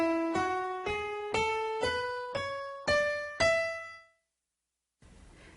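An E Mixolydian scale played as eight separate ascending notes on a pitched instrument, each struck note ringing briefly before the next, evenly paced, clear and alone, followed by a short gap and a faint noise.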